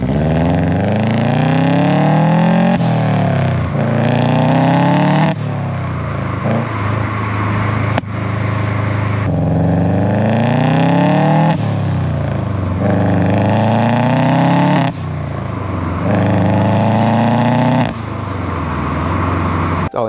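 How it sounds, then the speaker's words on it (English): A 2008 Subaru Legacy GT with its EJ25 boxer engine revs repeatedly, rising and falling in loud, close sweeps with brief pauses between pulls. "this is my first car with the EJ motor, and I finally understand what people are saying about the sound"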